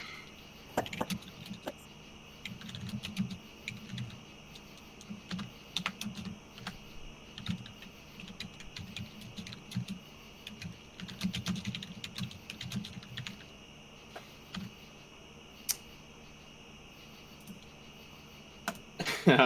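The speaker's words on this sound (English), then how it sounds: "The typing continues." Steady keyboard typing with irregular clusters of key clicks over a quiet background, continuing for the whole stretch.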